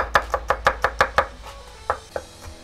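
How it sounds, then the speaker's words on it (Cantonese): A knife finely chopping shallots on a board, eight quick, close, evenly spaced knocks followed by a few slower, sparser cuts, crisp and isolated with no talking. "乾葱咧，我哋要將佢切蓉啊"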